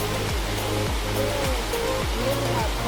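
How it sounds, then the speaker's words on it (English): Waterfall in an ancient creek with pools and caves: a steady, broad rushing roar fills the clip continuously and loudly, with footsteps thudding rhythmically underneath and faint voices in the background. "love that waterfall and that tree."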